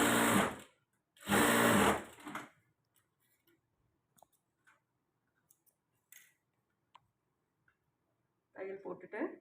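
A close, loud sewing machine stitching a blouse in two bursts of whirring motor and needle hum, then quiet small clicks and handling, with a brief return of sound at the end.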